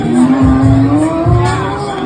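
A remote-controlled toy Lamborghini car drives close by with a loud, steady whirring motor and rising and falling pitch, broken by brief squeal-like bursts over about two seconds.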